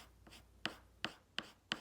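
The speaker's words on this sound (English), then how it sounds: "And then if you color just one way, it sounds like this." Four separate crayon strokes on paper, each a sharp scratchy swipe followed by a brief fade, evenly spaced and close up.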